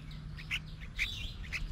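Newly hatched red-whiskered bulbul chicks give short, high chirps in a few spaced bursts over a low steady hum. The calls are faint and come from close by, with no talking.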